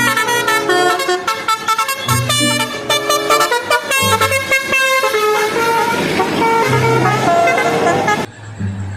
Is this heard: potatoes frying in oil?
no